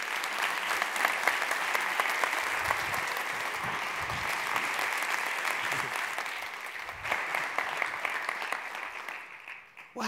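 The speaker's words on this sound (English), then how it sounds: "Let's have a big round of applause for Jared." An audience applauds a keynote speaker at a UX conference, steady dense clapping filling the room for about ten seconds before tapering off at the end.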